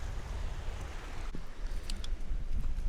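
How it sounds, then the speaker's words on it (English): Wind gusting at a rocky shore with coral and fossil-bearing rocks, a steady broadband rush with low buffeting that rises and falls throughout, a few faint clicks on top. "It's a little bit windier where we're at right now."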